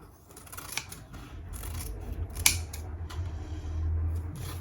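Scissors snip through a laminator pouch, a few crisp close cuts, one sharper snap in the middle, over faint low background hum with no talking.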